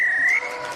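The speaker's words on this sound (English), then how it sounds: "Referees whistle goes for half-time" A referee's whistle signals half-time in a live rugby match between Cardiff and Ebbw Vale: a single shrill blast lasting under half a second, clear and fairly loud over faint background murmur.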